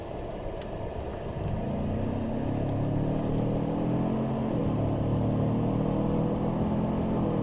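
A 2017 Ford F150 Lariat pickup with a turbo engine accelerates on a road, its engine note rising in a steady, loud drone that shifts pitch partway through, heard from inside with no talking.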